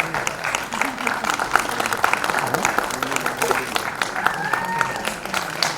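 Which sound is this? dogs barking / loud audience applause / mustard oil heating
loud audience applause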